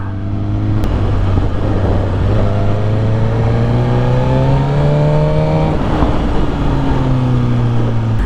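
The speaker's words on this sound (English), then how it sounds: "you get a little crackles, which sound absolutely awesome" A 2021 Harley-Davidson Street Glide CVO with a full header exhaust idles loud and close, then revs up and eases back down in a deep, rumbling drone with rising and falling engine tones.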